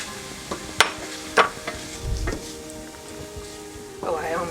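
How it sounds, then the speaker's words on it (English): Flour stirred into tender onions in a pan, with a few sharp scrapes of a utensil and a low sizzle close by, plus a brief soft bump and rustle near the end. "we're going to add in the flour and stir this constantly"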